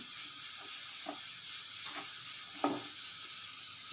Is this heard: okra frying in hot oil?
yes